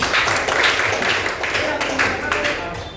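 A classroom group claps for a student named Ray, steady overlapping applause of many hands at close range, continuing for a few seconds over a noisy background.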